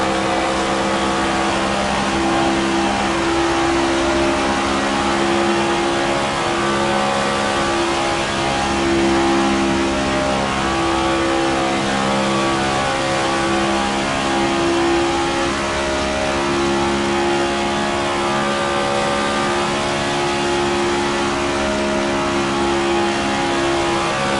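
Car engine held at full throttle in a Las Vegas racing video game, a loud, steady high-revving drone with layered harmonics that holds constant for the whole stretch with no talk over it.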